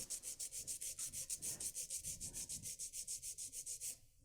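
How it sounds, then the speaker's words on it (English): A nail file is drawn straight across the tip of a fingernail to square it, making a close, quiet rhythmic rasp of about twenty quick even strokes that stop just before the end. "hold the file straight up and down, and go straight across"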